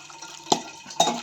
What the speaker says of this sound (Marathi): आता असं मिक्स करून घ्यायचं आहे आपण छानपैकी हाताने आपल्या सगळ्या गाठी फोडून घ्यायच्या